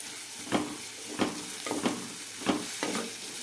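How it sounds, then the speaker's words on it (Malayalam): Chopped onions and curry leaves sauté in oil in a pan for a potato kurma, a steady soft sizzle broken by about five distinct scraping stir strokes at a loose, unhurried rhythm, heard up close with no talking. "സവാളയ്ക്ക് ചെറിയൊരു ഗോൾഡൻ കളർ വരണം അതുവരെ വഴറ്റിയെടുക്കാം"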